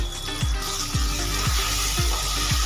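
Yogurt and cashew paste lands in a pan of okra and prawns frying over a low flame, with a constant hissing sizzle and soft, regular thumps about twice a second.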